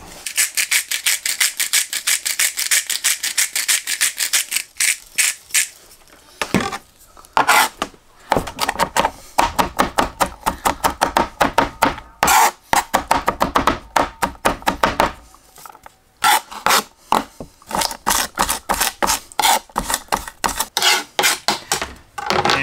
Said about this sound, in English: So I just give it a coarse chop to start.